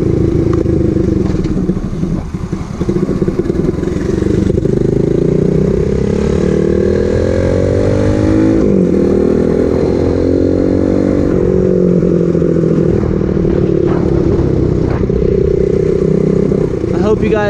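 Super pocket bike, running after a top-end engine rebuild, ridden with the engine revving: a loud, close, continuous buzzing drone that rises and falls in pitch as it accelerates, with wind noise throughout.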